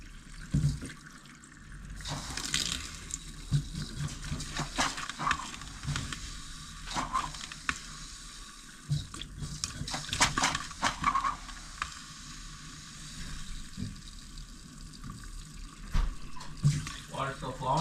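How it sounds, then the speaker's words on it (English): Hot water running from a tap at an off-grid cabin, a steady broadband wash that flows throughout with some clatter and brief voices in the background. "Water still flowing?"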